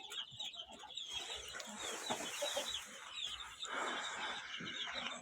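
Young chicks just moved into a chicken coop in early spring, with a constant busy chorus of high, thin peeping and chirping, quiet and close, alongside occasional soft clucks and rustling.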